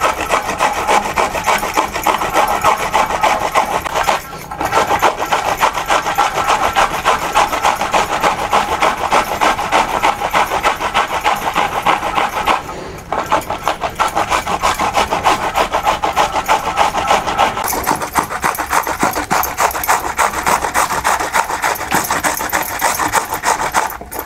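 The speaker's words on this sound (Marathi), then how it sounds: "आता आपण हे काकडी किसून घेऊया." Cucumber rubbed against a hand grater in a home kitchen, a steady, loud rasping scrape in continuous strokes with two brief pauses, no talking.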